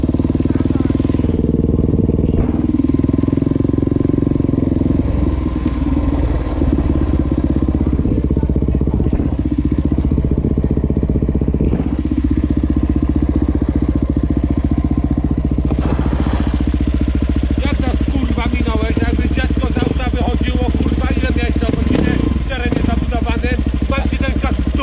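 A motorcycle engine captured by a rider's camera on a public road, droning loudly and steadily throughout with shifts in revving, while voices talk over it.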